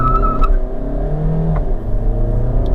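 An Audi Q2 35 TDI, a 150-horsepower 2.0 diesel with a seven-speed DSG and front-wheel drive, pulls at full throttle. A steady, droning engine note with road hum, heard from inside the car, continuous and fairly loud, with no talk.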